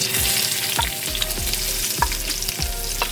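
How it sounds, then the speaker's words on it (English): Curry leaves and onions hit hot oil in a pot for Trinidadian channa and aloo curry, throwing up a loud, steady sizzle with a few sharp stirring scrapes and no voices. "Okay, the oil is hot. In goes the curry leaves. Put in the onions."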